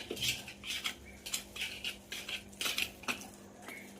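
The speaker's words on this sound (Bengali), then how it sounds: "এবার আমি সমস্ত মশলা ভালো করে মিশিয়ে নেব।" Spices for chicken Barra being mixed in a bowl with a metal spoon, repeated scraping and clinking strokes in an uneven rhythm, close and fairly quiet.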